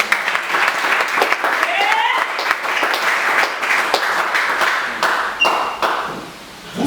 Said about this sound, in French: Est-ce que vous pouvez acclamer?